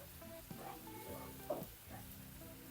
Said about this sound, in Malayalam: ഒരു ടേബിൾ സ്പൂണോളം ജിഞ്ചർ ഗാർലിക് പേസ്റ്റ് ഇട്ട് കൊടുത്തേ ഇതെല്ലാം കൂടെ കിടന്ന് നല്ലോണം ഒന്ന് വഴുന്ന വരട്ടെ